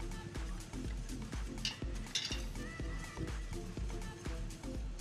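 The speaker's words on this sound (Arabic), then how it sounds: "لكن عم نلوح البصل" Onions sautéing in a pan in a home kitchen, with a steady crackling sizzle underneath and frequent sharp clinks of a utensil stirring and tapping against the pan throughout.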